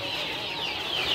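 Sentul chickens cluck on a farm, a close, busy chorus of short calls over a steady background hum.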